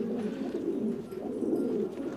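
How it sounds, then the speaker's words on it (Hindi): Gagra Khaira Dande Maar pigeons coo steadily, a dense, continuous low murmur of several birds close by with no talk over it. "गागरा खैरा डंडे मार कबूतर।"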